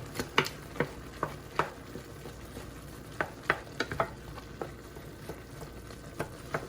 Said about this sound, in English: we're just gonna let it simmer just a little bit longer just to cook those green peppers and onions